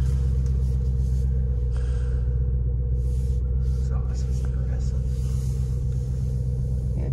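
A Lamborghini Urus engine gives a steady, deep low rumble from inside the cabin as the SUV pulls away, loud and constant, with people talking over it.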